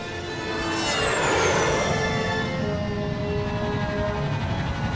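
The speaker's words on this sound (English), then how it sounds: "Guess we're taking the jet." Jet aircraft in the Psychonauts game roaring steadily for several seconds, a loud continuous whoosh that swells early and holds, with a high whine sweeping downward through it and no talking.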